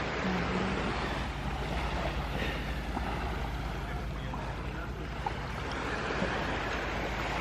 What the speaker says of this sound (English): Nice place if you just want to lay out on a nice tropical beach.